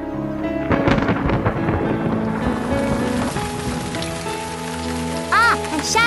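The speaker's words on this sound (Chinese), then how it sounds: "下雨了！" Rain begins to fall with a rumble of thunder, a loud, steady wash of drops over low rolling noise, while tonal sounds and brief voices mix in near the end.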